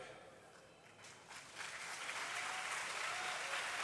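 An audience at a religious discourse during the Vadtal Mahotsav 2025 breaks into applause that swells from a soft patter to a fuller, sustained ovation, heard somewhat faint and distant.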